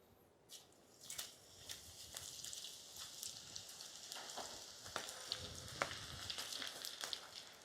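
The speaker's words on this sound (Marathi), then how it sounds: "तेल गरम झालेलं आहे आपलं, आता आपण त्याच्यामध्ये भेंडी फ्राय करून घेऊ।" Okra (bhindi) frying in hot oil in a wok crackles and sizzles steadily at close range, with sharp pops scattered throughout.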